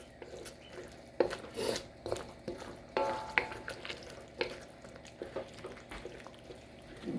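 Szechuan beef fries as dark soy sauce is stirred in, giving a continuous close sizzle broken by irregular scraping and spatula knocks against the pan.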